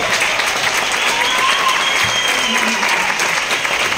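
Loud, sustained applause from a crowd at a public gathering, dense and continuous clapping with a faint voice surfacing now and then beneath it.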